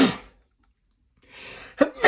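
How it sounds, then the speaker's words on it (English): A single sharp sneeze bursts out, with a quick sharp intake and another short explosive sound at the end, close and fairly loud against quiet between. "Where I'm going to sneeze as well."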